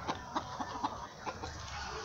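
Pedrês hens with their chicks and a big white rooster cluck softly in a steady series of short, evenly spaced clucks over a constant low background hiss.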